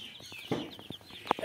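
Two-day-old Tiger breed chicks at a poultry farm in Bakshiganj, Jamalpur, give short, high peeping chirps, several quick calls scattered over a quiet background.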